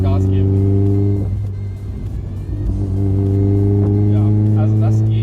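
A turbocharged Mazda MX-5 with a homemade exhaust idles and revs gently under light throttle, a loud, close, droning engine note that dips briefly and then climbs again, with speech over it.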